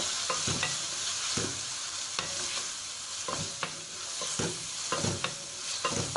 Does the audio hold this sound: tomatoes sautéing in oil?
yes